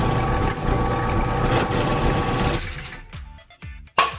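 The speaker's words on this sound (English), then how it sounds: "I am going to drill a 7/8 inch hole through here" A power drill bores a 7/8 inch hole through a homemade floor grinding disc, grinding loudly and steadily before it slows into a few short, sputtering bursts near the end.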